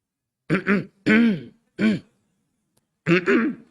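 Coughs and throat-clearing sound in four short, close bursts, some doubled, separated by brief silences, from a lecture audience.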